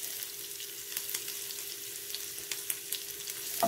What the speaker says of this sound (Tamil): ஒரு ரெண்டு நிமிஷம் ஆயிலில் வேகட்டும்.